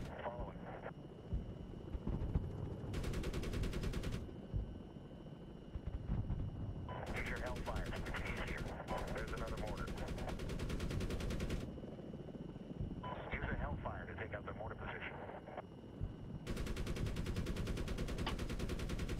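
Gunfire in the Medal of Honor video game, with repeated bursts of rapid automatic shots and loud bangs across the stretch, mixed with game noise and talk from players over the top.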